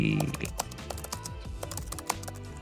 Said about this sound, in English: And now let's go for the typing.